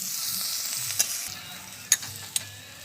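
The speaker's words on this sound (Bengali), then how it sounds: "ডাঁটাটা দেবার পর আমি 2-3 মিনিট নেড়ে নেব" Telakucha stalks with poppy seed paste and a little turmeric stirred in a hot pan, a soft continuous sizzle broken by a few crisp scrapes and clicks of the spatula, close up with no voices.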